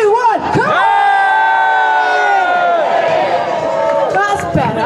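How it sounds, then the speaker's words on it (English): Spectators and volunteers at the 2024 Brompton World Championships folding-bike race in London give a loud, sustained group cheer with whoops and shouting, close and continuous for about five seconds. "Yeah, this is like a big cheer."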